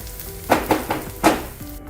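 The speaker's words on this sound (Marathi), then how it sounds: "आता हे चांगलं परतून घ्यायचं।" A semolina snack mixture with sesame seeds, chopped curry leaves and red chili flakes is sautéed in a pan. Several quick scraping stirs sound over a soft sizzle in a brief, close burst.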